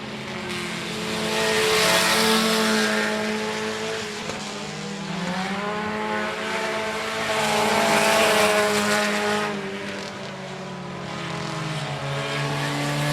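Stock car engines roar around the I-37 Speedway oval, loud and close, rising and falling in pitch as the cars pass in waves through the final laps.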